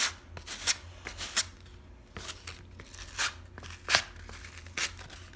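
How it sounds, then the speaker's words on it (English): Sandpaper rubbed across a squishy mango toy, close and fairly quiet, in short scratchy strokes repeated about ten times at an uneven rhythm. "So I'm just gonna sand this mango."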